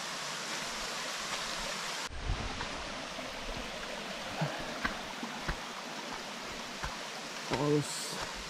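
The waterfall at Su'bon Cave in Asbang, Matanao, Davao del Sur gives off a steady broadband rush of falling water, with a few brief knocks and a short voice near the end.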